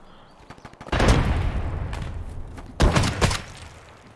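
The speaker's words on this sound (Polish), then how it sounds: "ty rzucił ten granat" A grenade goes off in Escape from Tarkov, a heavy booming blast at close range followed by a second deep burst and rumbling echo, with no talk over it.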